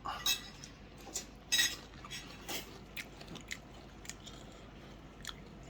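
Someone eats rice with Thai chili paste, with soft chewing and a few sharp clinks of cutlery against a dish, quiet and close.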